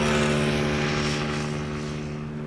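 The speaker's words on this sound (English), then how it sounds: "Combo shot with the Dash 8. Flying subtly low-key in the background." A Dash 8 turboprop passes low at a busy Schiphol airport, its propeller drone steady and loud with strong harmonic tones, gradually fading slightly as it moves off.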